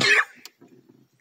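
One short, sharp cough up close, followed by a faint breathy rasp and quiet.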